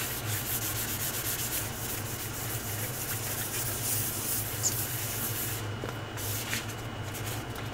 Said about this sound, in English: So I just give it a light sand.